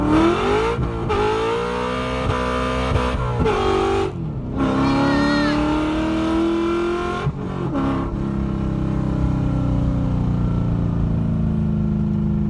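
A Coyote V8-swapped Fox-body Ford Mustang pulling at wide open throttle, engine roaring and rising in pitch through several gears with brief dips at each shift, loud and close from inside the car.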